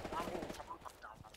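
A quick burst of rapid gunfire rattles at moderate distance in Hell Let Loose, followed by scattered softer shots and game ambience.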